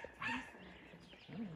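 A dog gives short whimpering, yelping cries, two brief high whines separated by a pause, fairly close but quiet.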